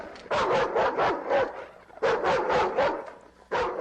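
An angry bulldog and a yellow terrier bark in quick yapping bursts, three volleys of several sharp barks each, close and loud with nothing else heard.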